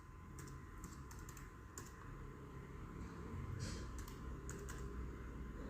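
Computer keyboard typing while entering HTML code, a steady run of quick key clicks with brief pauses and a faint steady hum behind, no talk.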